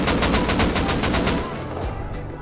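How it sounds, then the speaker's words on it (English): Rapid automatic gunfire from the Rust video game during a tournament match, a fast burst of evenly spaced loud shots for about a second and a half, then a fading tail. "We're shooting."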